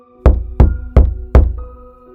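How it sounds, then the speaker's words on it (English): Four loud, evenly spaced knocks on a door in a quiet room, each a heavy hollow thud with a short ring-out, in a steady rhythm and nothing else audible. "a loud knocking broke the silence"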